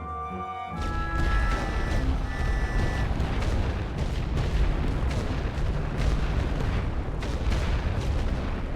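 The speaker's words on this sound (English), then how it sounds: "I will use a light barrage to do that, though." A light artillery barrage booms in the WWI game The Great War: Western Front, with repeated heavy thuds and rumbling blasts over sustained low noise, and a brief tonal game sound near the start.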